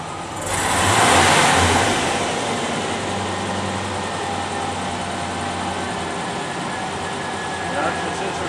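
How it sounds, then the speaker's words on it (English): A car engine in limp mode rises in a sustained rev under load, then holds a steady, loud droning hum with broadband roar for several seconds. "When I engage the engine and load the engine"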